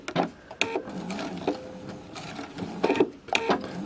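Sewing machine stitching quilt binding at a quarter-inch seam, running in several short, close bursts of rapid mechanical whirring separated by brief pauses.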